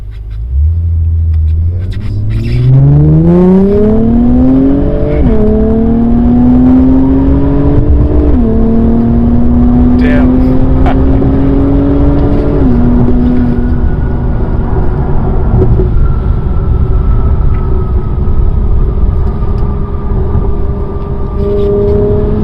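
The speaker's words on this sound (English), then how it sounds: "The turbo sound is amazing." A 2021 Acura TLX Type S with its turbo engine and exhaust pulling hard while driving, a loud rising drone climbing through several gear changes, then settling into a steady cruising hum with a whirring turbo note.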